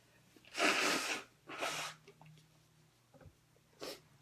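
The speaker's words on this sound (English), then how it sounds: "I gotta blow my nose again." Two loud, breathy nose blows close by, followed by a shorter third burst after a quiet pause.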